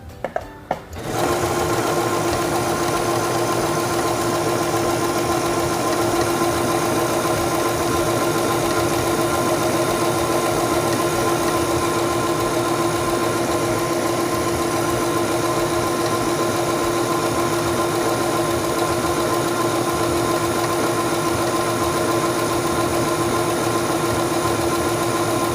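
A Singer 7258 computerized sewing machine stitches fabric at a fast, steady, continuous whir for about 25 seconds after a brief start-up, close and loud with no talking.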